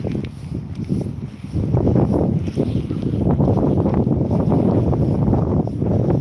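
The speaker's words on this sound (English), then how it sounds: "It's certainly wet and windy up here." Blustery, wet wind on the Withernsea seafront promenade roars and buffets against the microphone, a continuous rumbling rush with gusts building louder partway through.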